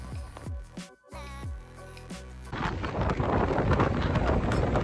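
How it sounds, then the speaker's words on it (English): Gusty wind on a beach at Hilton Head Island's Palmetto Dunes buffets the microphone with a loud, rough roar that builds and stays strong after the first few seconds, following some earlier tonal sounds. "Windy."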